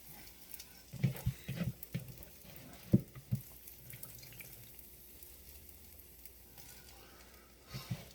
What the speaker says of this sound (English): so now we're going to fry these off.